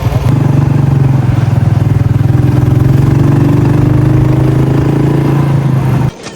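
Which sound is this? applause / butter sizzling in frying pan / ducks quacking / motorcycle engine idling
motorcycle engine idling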